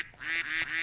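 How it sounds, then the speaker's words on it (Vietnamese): A flock of cartoon geese honks in quick, loud, nasal bursts, two or three overlapping calls close by in a short stretch with no talking. "để ta cho đàn ngỗng đi qua."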